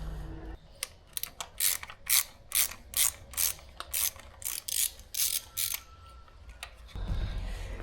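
A hand ratchet clicks in repeated short bursts while a T27 Torx bit turns bolts on a KTM 690 motorcycle in a garage. The close, crisp pawl clicks come in about a dozen strokes with brief pauses between them.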